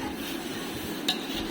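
Flattened rice chivda mix with red chilli powder and salt being stirred in a pan, a soft continuous rustle with one brief sharp clink of a utensil near the end.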